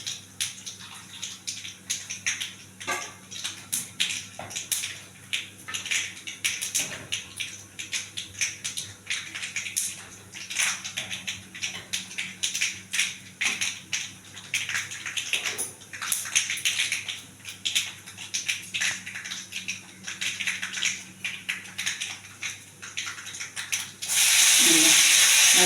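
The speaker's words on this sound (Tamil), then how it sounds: "இந்த தண்ணி கொஞ்சம் வெந்நீர் ஊற்றுறேன்." Hot water is poured into a cooking pot of sambar, a long splashing, hissing stream with scattered clinks and bubbling, ending in a louder rush of water near the end.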